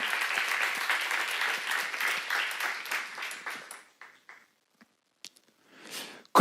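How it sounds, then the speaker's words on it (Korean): A church congregation claps in dense applause for a few seconds during a sermon, then it dies away into near silence, with a few faint scattered sounds afterward. "박수하세요"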